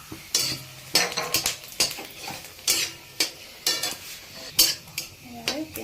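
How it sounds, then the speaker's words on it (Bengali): Whole garam masala spices dropped into hot oil for chicken rezala, with sharp bursts of sizzle and repeated close clatters of a utensil against the pan in an uneven rhythm. "এখানে তেল কিন্তু গরম হয়ে গেছে আর আমরা দিয়ে দিচ্ছি গোটা গরম মশলা"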